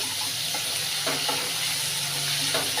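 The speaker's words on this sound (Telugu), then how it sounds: "కరివేపాకు వేసుకుందామండి బాగా వేగాలి ఉల్లిపాయలు" Onions and curry leaves frying for a tomato upma made with wheat rava, producing a close, continuous sizzle with a few soft stirring scrapes, no voices.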